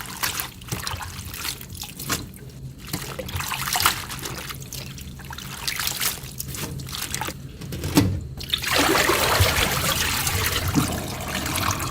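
Spinach being washed under running water, a continuous trickle and splash with bursts of handling and the stream growing louder and fuller near the end, with no clear speech.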